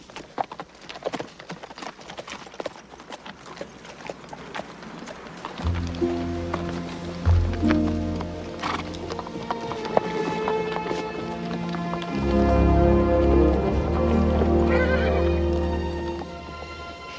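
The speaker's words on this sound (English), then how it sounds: "It's 3 horses. No, 1 buffalo, 2 horses." Horses clip-clop along at a steady walking pace, with a whinny rising over the hoofbeats as two horses and a buffalo approach on a trail toward Santa Fe; a low musical drone swells beneath in later stretches.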